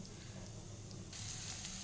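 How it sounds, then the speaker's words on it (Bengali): Cumin seeds and asafoetida frying in hot oil give a steady, soft sizzle that turns brighter and hissier partway through, close and unbroken with no talking. "এই তেল দিয়ে দিয়েছি, তেলে একটু জিরে একটু হিং দিয়ে দিয়েছি, ওটা ভালো করে ভাজা হবে"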